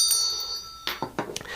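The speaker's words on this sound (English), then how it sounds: "Let's ring that bell." A small bell rung at an ASMR tarot card reading: a few bright, ringing strikes close up, each with a short decay, in a quiet room with no talking.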